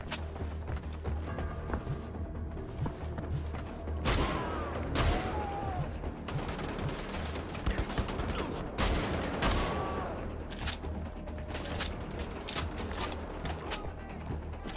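Enemy gunfire in Wolfenstein: The Old Blood, scattered bursts and single shots of varying distance cracking over a steady low background rumble, with no one talking.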